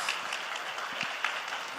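Applause welcoming a pastor at a Korean Baptist church's Wednesday worship service, a steady wash of clapping from the congregation at moderate level, with a few scattered louder claps and faint voices underneath.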